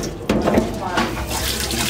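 Tap water running into a bowl as mung beans are rinsed, a steady close splashing and gushing stream that continues throughout without pause.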